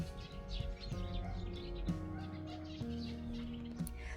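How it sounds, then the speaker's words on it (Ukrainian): Birds chirp and call in short repeated phrases against a faint steady outdoor background, fairly distant and soft. "Ось так от у нас тут пташки співають, так наче весна."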